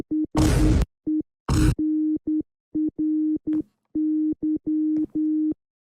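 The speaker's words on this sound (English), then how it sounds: "Listening to Morse code in Minecraft with these two" Morse code beeps from the Minecraft video game: steady pure electronic tones in short and long pulses, alone and fairly loud, with two brief bursts of hissy noise near the start.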